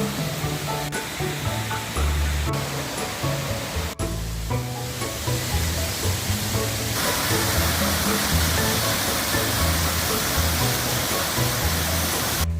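Guseong Falls near Cheongpyeongsa temple roars with a loud, steady rush of pouring water, broadband and unbroken for the whole stretch, with no voices.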